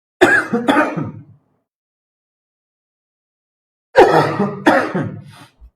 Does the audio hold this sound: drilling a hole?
no